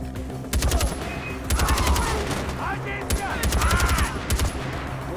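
A new weapon fires in rapid, close, loud bursts during a fight at a Pagan fortress in Far Cry 4, with ringing metallic echoes between the volleys.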